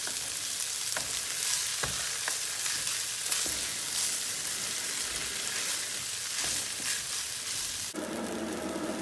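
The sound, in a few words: rice and green onions sautéing in pan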